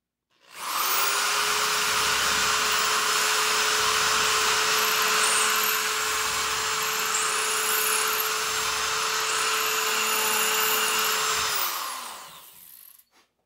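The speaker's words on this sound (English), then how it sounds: "drill from the back here, put two brass pins just to lock everything in place" A power drill bores holes for 1/8-inch brass pins through a carved wooden dragon walking stick. One loud, steady whine runs for about eleven seconds, heard up close with no talk, before it winds down.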